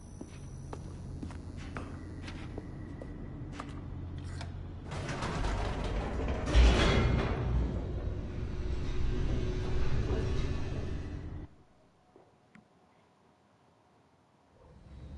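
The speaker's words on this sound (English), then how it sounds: "The elevator raced downward, plummeting towards an unknown fate." An elevator descends in the video game The Stanley Parable with creaking, grinding mechanical noise and clanking gears. The rumble builds to a loud, rattling peak midway, then cuts off abruptly into near silence.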